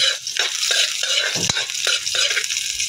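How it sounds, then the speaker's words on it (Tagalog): Chopped onion and garlic sauté in hot oil until golden brown for a provincial pinakbet, a steady broadband sizzle with repeated scraping stirs across the pan and one sharp clunk midway, loud and close with no voices. "Yan lang natin na magkulay golden brown ng ating sibuyas at bawang bago natin lagay yung diles at hipon."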